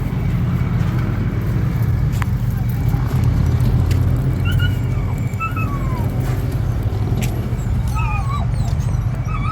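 Great Pyrenees puppies whimper and yip in brief high squeals over a loud, steady rumble of road traffic outdoors, with scattered clicks and thumps nearby.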